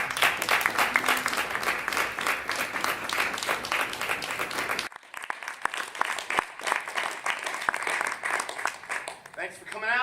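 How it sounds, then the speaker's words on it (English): A crowd claps and cheers loudly, the applause fading into scattered claps and a few voices as it dies down. "Please join me in giving a warm welcome hand of applause to the Reverend, the legendary Saab Lofton."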